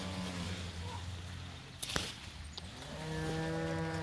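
Cows in a cocklebur field bawl for their calves, long drawn-out moos rising and falling at a middle distance, with a brief clatter partway through.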